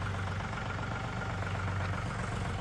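A tractor engine idles in a steady, low, pulsing drone that is close and continuous for a few seconds, with no voices over it.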